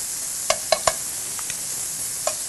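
Garlic sizzles in a hot pan at a steady hiss while a spoon stirs it, giving several sharp close clicks and scrapes against the pan.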